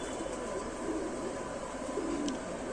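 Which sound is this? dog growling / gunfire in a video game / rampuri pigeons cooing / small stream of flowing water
rampuri pigeons cooing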